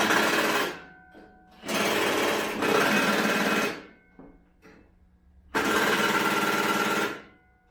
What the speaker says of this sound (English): we'll just run them down with the impact driver